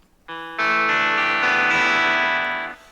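A single strummed electric guitar chord on a clean amp channel rings out, building slightly and sustaining for a couple of seconds before fading; close and fairly loud, no voices.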